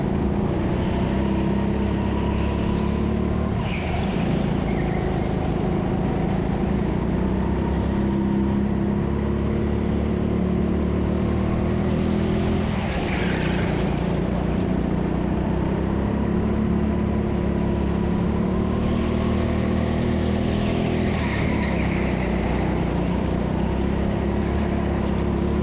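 Go-karts racing round an indoor track, a continuous buzzing engine drone that rises and falls as the karts accelerate and brake through corners, close and loud throughout.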